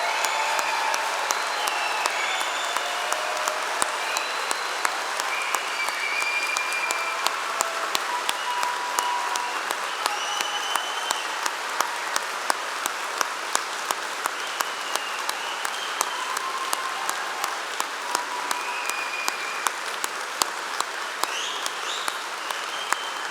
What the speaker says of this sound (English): let all of us give them one last huge round of applause